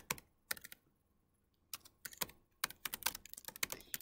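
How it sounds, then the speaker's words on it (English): Typing on a computer keyboard while entering a name and address into an Access database form, heard as bursts of close, crisp key clicks separated by brief pauses. "So I'm gonna click here and just type in"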